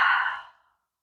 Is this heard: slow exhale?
yes